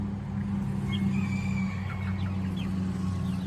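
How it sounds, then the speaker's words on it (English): Hens, including Legbar chickens, cluck steadily inside a coop, with several birds calling near and loud over a constant low hum. "Then I've got a couple hens for my mom's flock that are growing up in here"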